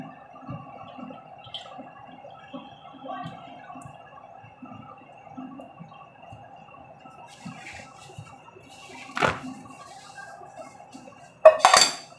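A wok clinks and clatters as it is set on the stove and cooking oil is poured in, with a few sharp metallic knocks near the end over a quiet kitchen hum.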